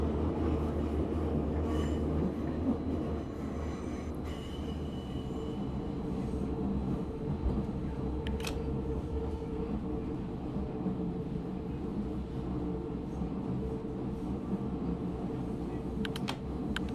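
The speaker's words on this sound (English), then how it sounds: "The train we are in right now is a Berlin train." Inside a moving Berlin train, a steady rolling rumble of wheels on track with occasional brief squeals and clicks, continuous and fairly close, with no talk.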